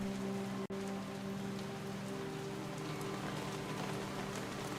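Steady rain falling in a WWI hospital management video game, a soft constant patter of drops on surfaces with a faint low hum beneath and one brief sharp click early on.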